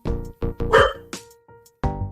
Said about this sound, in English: hold on one second, my dog's spazzing out.